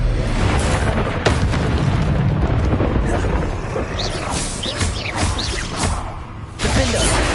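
The Expulso blasting spell in Hogwarts Legacy erupts in a loud, dense explosive roar with crackling, shattering debris that persists throughout, ending in a fresh burst.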